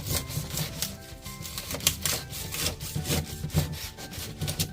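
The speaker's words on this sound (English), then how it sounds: "I am gonna cut this pineapple" Knife sawing through a pineapple to halve it, a close, busy rasping and crunching of blade against tough fibrous rind with irregular scraping strokes throughout, no talking.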